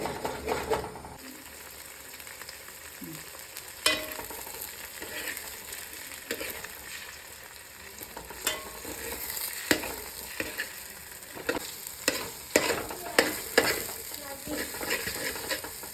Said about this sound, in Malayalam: ഈ മുട്ട ചിക്കി എടുക്കുമ്പോൾ ചെറിയൊരു ബീഫിൻ്റെ പീസ് പോലെ നമ്മൾ ചിക്കി എടുക്കാൻ ശ്രമിക്കണം